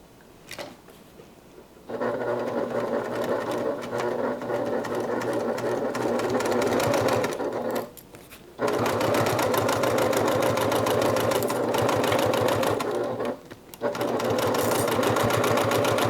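A sewing machine stitches a half-inch seam on a fabric bag in long steady runs, loud and close, with two brief stops midway.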